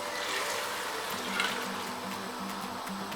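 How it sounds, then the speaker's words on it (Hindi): Water being poured into a pot of partly roasted chana daal, a steady broadband splashing rush that fills the whole clip at moderate loudness, with no voices. "अब हम इसमें पानी शामिल करेंगे"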